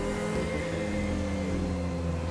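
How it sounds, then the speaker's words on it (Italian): An Entity supercar in Grand Theft Auto V Online revs up under acceleration, a steady engine drone with layered low tonal harmonics that holds throughout at even loudness, with no talk. "Diamo un po' di accelerazione qui, deceleriamo."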